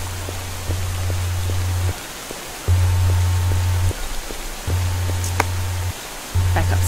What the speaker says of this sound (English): I think the storm might be getting worse.